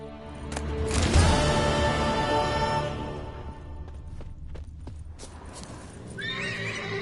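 In The Witcher 3, a horse whinnies loudly and close, its long neigh mixing with clip-clopping hooves, which continue more quietly afterward alongside faint ambient sound.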